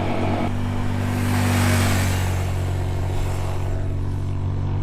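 A small 125cc motorcycle runs with the throttle held wide open, a steady, buzzing engine drone heard up close with wind rush and no talk.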